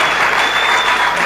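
Loud, dense clapping from an audience, continuous and even throughout a short burst of a bit over a second.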